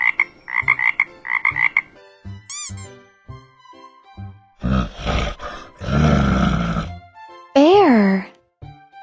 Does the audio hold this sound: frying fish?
no